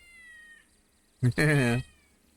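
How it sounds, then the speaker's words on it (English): A big fluffy cat in the GTA V video game gives a single drawn-out meow, loud and close, after a short quiet stretch with a faint tonal background. "oh, that's a big fluffy kitty"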